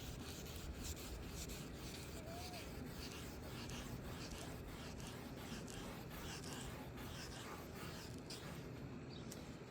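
Wet sanding of a Honda Civic headlight lens with 3000-grit paper, a faint, steady rubbing hiss with soft back-and-forth strokes repeating evenly throughout, no voices.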